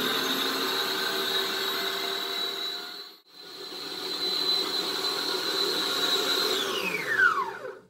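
Electric stand mixer whirring steadily while beating a passion fruit ice cream cake mixture, with a brief dip in speed partway through and winding down at the end, close and without talk.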